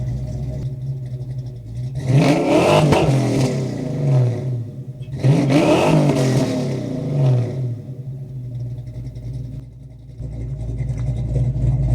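Fox Body Mustang V8 with FlowMaster exhaust revved twice from idle and heard from about eight yards away, two loud rising blasts of exhaust roar that settle back to a rumbling idle.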